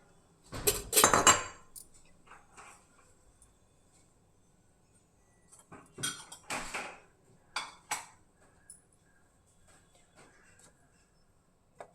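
Raw mango chutney is spooned into a bowl: a few clinks and scrapes of a utensil against the dish in scattered bursts separated by quiet pauses, close by.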